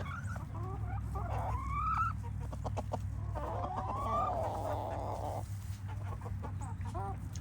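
Silkie chickens cluck and call out on a sunny day, with rising squawks and cackles over a steady low hum in the background, fairly close but soft.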